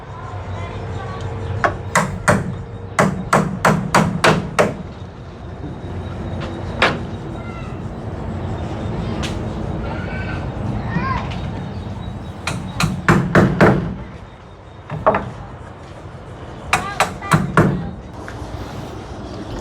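Hammer blows drive nails into corrugated zinc roofing sheets, ringing metallic strikes coming in quick bursts of several hits with pauses between, loud and close, with occasional voices and background noise.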